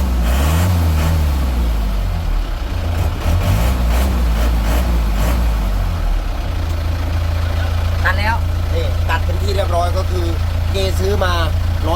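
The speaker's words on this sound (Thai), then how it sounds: "เนี่ยเร่งเครื่องครับ" A vehicle engine runs loudly, its pitch rising and falling as it is revved, then settles to a steady idle while someone talks over it.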